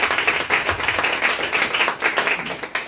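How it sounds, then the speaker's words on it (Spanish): Audience applause fills a literary gathering celebrating ten years of Letras Corsarias, steady and dense clapping from a crowd close by, continuing for the full stretch without any voice on top. "os pido, por favor, un fuerte aplauso"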